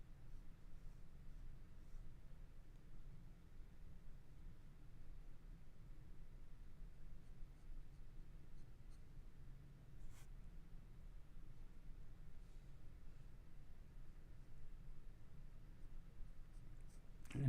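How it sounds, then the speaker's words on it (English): Pencil drawing on paper using the side of the lead with an overhand grip, a soft continuous scratchy shading rustle, quiet and close, steady throughout. "I'm just using this overhand grip again to really utilize the side of the pencil"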